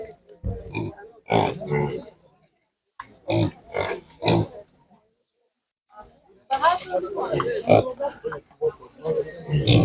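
Piglets grunt and squeal in short bursts at close range at an animal market in Ukraine, with a busy stretch of overlapping animal noise and crowd bustle toward the end.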